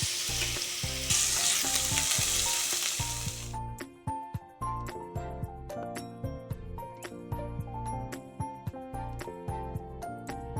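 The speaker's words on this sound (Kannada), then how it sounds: "ಇವಾಗ ಫ್ರೈ ಅನ್ನವನ್ನು ಮಿಕ್ಸ್ ಮಾಡ್ಕೊಳ್ಬೇಕು." Fried rice being stirred in a hot pan for a simple breakfast, with steady sizzling and frying plus repeated scraping, clattering stirs throughout, loud and close with no talk.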